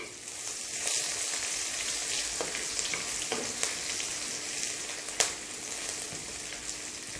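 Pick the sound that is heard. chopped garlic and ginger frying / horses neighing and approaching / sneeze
chopped garlic and ginger frying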